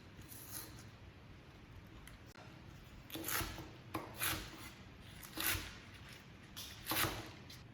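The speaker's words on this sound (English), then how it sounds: "How to cut green onion, scallion? I just cut it like this." A knife chops green onion on a board in a run of crisp, fairly close strokes, spaced unevenly, with quiet pauses between bursts and no talk.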